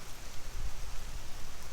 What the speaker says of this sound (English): Hiding from the rain.